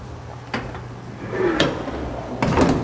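Sliding door on a 2023 Toyota LiteAce panel van, heard as three sharp knocks and thuds of the door latching and rolling on its track, close by with a low engine-like hum underneath.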